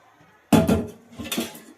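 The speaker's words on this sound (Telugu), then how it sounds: "ఈ గిన్నె పొయ్యి మీద పెట్టేద్దాం సరేనా" A cooking pot is set down on a home kitchen stove with a clear metallic clank, followed by a few lighter knocks and scrapes of cookware, close and fairly loud, no talking.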